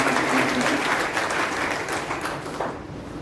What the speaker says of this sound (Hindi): एक बार इन सबका ताली बजाकर स्वागत करें